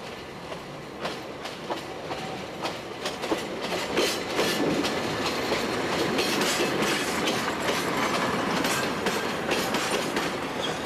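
A train running on the Calvi railway line in Corsica, a steady rolling rumble with rhythmic clickety-clack of wheels over rail joints, fairly loud and continuous with no voices.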